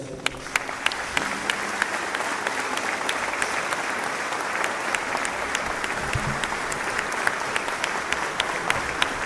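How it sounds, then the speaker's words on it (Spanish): An indoor audience gives a long, even round of applause for Roberto Kiener at a formal ceremony, a dense bed of clapping with sharp individual claps standing out and a faint voice beneath. "Roberto Kiener, a quienes le brindamos un fuerte aplauso"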